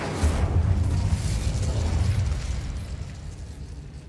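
The Incendio fire spell being cast in Hogwarts Legacy: a loud, broad whooshing roar of flame that swells at once and slowly fades over a few seconds, heard alone without talk.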